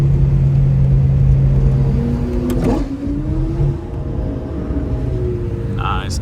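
Turbocharged car driving past at a Monterey car event: a loud engine drone that swells and shifts pitch as it passes close by, then fades into a lower rumble with other engine noise continuing.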